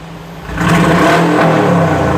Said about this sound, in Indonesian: Dia punya mesin seperti ini, teman.